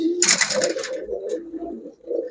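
A Belgian-blood racer pigeon gives low throaty coos, a close rolling call followed by softer repeated murmurs, with a brief rustle near the start and light background voices.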